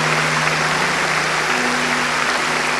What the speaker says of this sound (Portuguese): Você pode aplaudir esses irmãos que entregaram a vida para Jesus hoje?